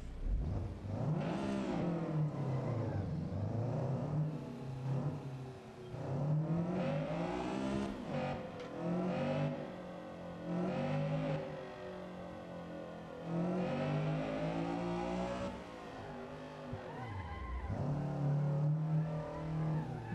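A Honda Civic EG6 engine in the racing game Assetto Corsa, revving up and down through repeated rises and drops in pitch, steady and fairly loud, with no talk over it.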